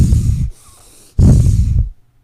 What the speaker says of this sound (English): So Bastrika with arms looks and sounds like this.